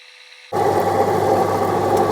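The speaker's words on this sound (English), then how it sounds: "So we'll start shaping it up, thinning out the back, and get it onto the dop." An opal-cutting wheel starts up abruptly and runs with a steady whirring grind while an Andamooka opal is shaped and thinned, close and constant after a quiet start.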